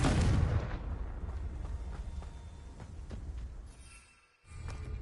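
A fiery Confringo blasting spell from Hogwarts Legacy, starting with a loud, close blast that trails into a crackling, rumbling tail, fades briefly, then swells again.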